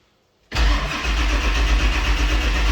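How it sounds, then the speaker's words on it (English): A 7.3L Powerstroke diesel engine in a one-ton dump truck, with a faint crank followed by the engine catching abruptly and running at a loud, steady, rumbling idle close by. "I want to start with my data, so I can check that out as we're cranking."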